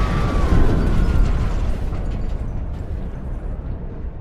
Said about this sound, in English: Only a fluid overload can make that kind of noise.